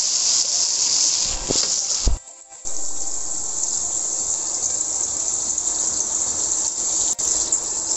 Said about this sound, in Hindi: अब हम इसको 2 मिनट अच्छे तरीके से भून लेंगे।